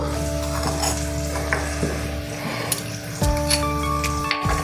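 A spoon stirs ground spices (turmeric, chili, coriander, cumin paste) loosened with a little water for a lalmohan bhetki fish curry, a soft scraping swirl over a steady hum and light background sizzle.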